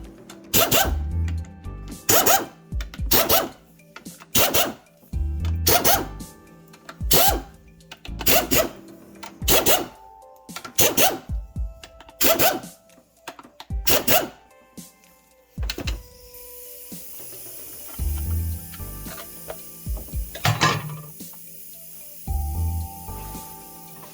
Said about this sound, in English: now we're gonna take these upper plumbing bolts off.